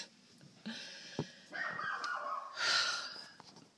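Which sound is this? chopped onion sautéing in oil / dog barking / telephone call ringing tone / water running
dog barking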